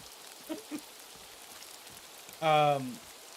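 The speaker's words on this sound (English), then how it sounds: "So rain actually does a slight amount of damage to you, but not damage to your health." Rain falling in the video game Dawn of Defiance, a soft steady hiss of drops under brief voice sounds and a short tonal game cue near the end.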